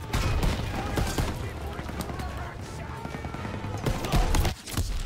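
MG42 machine gun fire in the Call of Duty WWII video game, rapid dense bursts of gunfire rattling continuously at close range with explosions and battle noise, voices calling out over the shooting.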